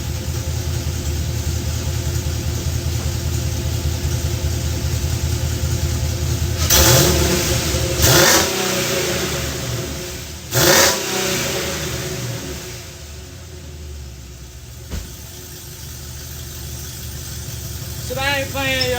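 A Chevrolet Caprice PPV V8 with newly installed headers and torque converter idles with an uneven, lopey rumble, broken by a few sharp throttle blips and revs before settling back to a choppy idle, close to the engine.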